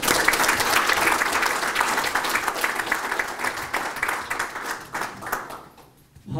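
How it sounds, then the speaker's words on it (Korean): Applause from the audience at a regional association's general meeting and officer inauguration, steady and fairly loud at first, then thinning into scattered claps and fading out near the end. "우리 회장단 여러분께 큰 박수로 한번 보내겠습니다"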